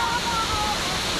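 Lugnason Falls on Siquijor Island in the Philippines pours steadily, a loud, unbroken rushing hiss of falling water heard close up and alone.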